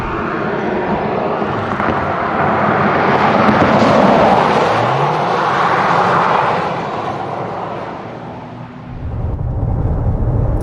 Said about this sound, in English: You hear that V6 augmented by those 2 electric motors.